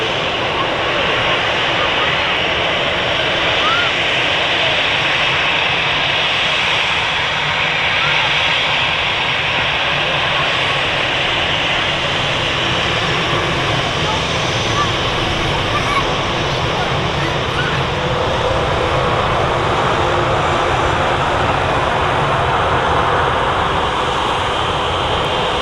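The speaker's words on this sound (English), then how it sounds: "Yes, the RB211s on that 757 sounding lovely." A Boeing 757 with Rolls-Royce RB211 engines roars on takeoff at Manchester Airport, a loud, steady, broadband jet rumble sustained throughout, with faint crowd babble in the background.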